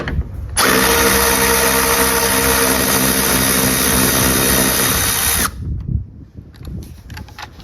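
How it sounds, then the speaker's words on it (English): A cordless power driver whirs loudly and steadily for about five seconds, removing 10mm screws on top of a 2013 Tahoe headlight, then stops abruptly, leaving faint handling noises. "we're gonna go ahead and remove these 2 10mm screws that are sitting on top"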